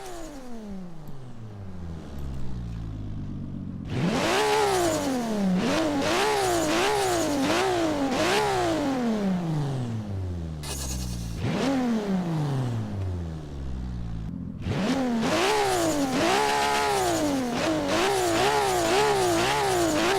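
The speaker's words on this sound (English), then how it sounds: "But I know that turbo is there. Let's just take a quick listen." A turbocharged 1992 Toyota Supra 2.0 in Forza Horizon 3 revs hard through repeated rising and falling sweeps, loud and close, with a brief pause before climbing again through rapid gear changes.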